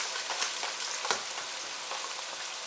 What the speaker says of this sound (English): we're gonna go ahead and chuck our onions in here.